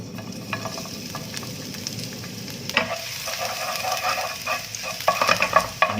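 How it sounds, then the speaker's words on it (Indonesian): Aromatics sauté in a small amount of oil in a wok on a stove, sizzling steadily and up close, with stirring scrapes and crackling bursts growing busier toward the end. "Ini ditumis hingga harum."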